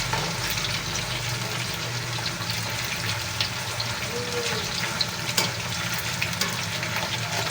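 Pork pieces fry in a pan, giving a steady sizzle with occasional crackles and pops while being turned, heard close and moderately loud without any talk.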